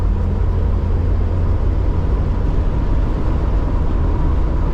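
A 1998 Jeep Wrangler driving and shifting into third gear after a transmission replacement: a loud, steady low engine and drivetrain drone with road rumble that holds constant throughout, with no distinct break at the shift.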